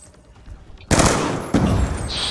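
Loud, sudden burst of rapid gunfire in Black Ops 2 that erupts after a quiet moment and runs continuously to the end, briefly restarting with a fresh volley.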